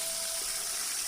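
Water runs steadily from a village spring outlet in the Uttarakhand hills, a close, continuous gushing splash with no speech over it.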